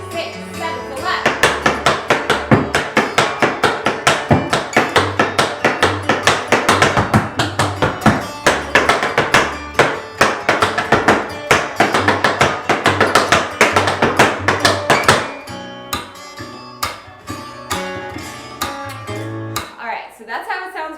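Tap shoes beat out an intermediate-to-advanced tap routine, quick sharp metallic taps in driving rhythm under loud rock music, thinning to sparser taps near the end.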